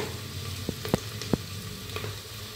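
Chopped onions sizzling in a pan as they are stirred for biryani, a steady soft fry broken by a few sharp spoon scrapes and knocks, close and alone.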